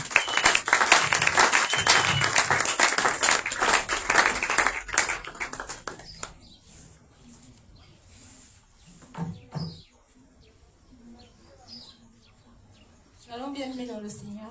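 Loud crowd applause with cheering fills the opening seconds at a Shavuot festival opening service, then fades out, leaving quieter room sound and a few scattered noises.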